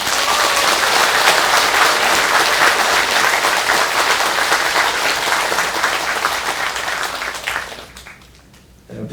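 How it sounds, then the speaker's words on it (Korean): A large audience at a Buddhist New Year all-night meditation Dharma talk bursts into loud, sustained applause that fills the space for about eight seconds, then drops sharply and fades. "우리 모든 대중을 위해서 큰 박수 한번"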